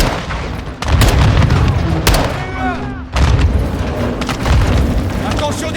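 Grenade explosions and gunfire in the video game Modern Warfare II, with heavy booming blasts bursting at irregular intervals amid gunshots and a dense battle din, loud and close, with voices calling out between the hits.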